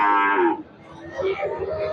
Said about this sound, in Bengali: দেখেন সারে সারি খালি গরু আর গরু কত রঙ বেরঙে